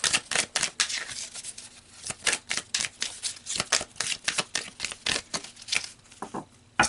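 Tarot cards are shuffled by hand in quick rhythmic bursts of crisp riffling and patter, repeating steadily and close up, with no talking.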